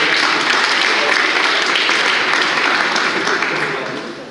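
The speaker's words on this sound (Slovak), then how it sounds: "Potlesk pre vás, páni." Audience applause during a rhetoric and negotiation-techniques workshop, a dense, steady wash of clapping from a room of people that holds for several seconds and then begins to fade.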